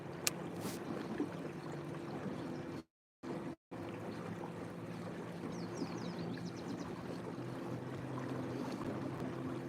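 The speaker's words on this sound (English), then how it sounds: "I got the trolling motor almost on full blast" A boat's trolling motor runs near full power against a flowing current, giving a steady low drone with water wash that continues through nearly the whole stretch, briefly cutting out twice.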